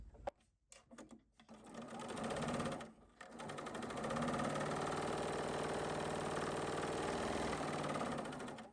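A serger sews a cover stitch on a denim belt loop with soft lock thread, starting and stopping in short bursts before settling into a fast, steady mechanical whir, close and clear.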